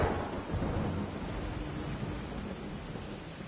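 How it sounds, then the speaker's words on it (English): Steady rain and rumbling thunder in the video game Rise of the Tomb Raider, in a mansion setting, heard as a continuous dense wash of rainfall with low rolling rumble throughout, fairly loud and without voices. "Gentle sound of rain. Exactly what we hear right now."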